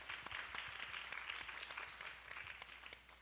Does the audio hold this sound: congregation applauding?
yes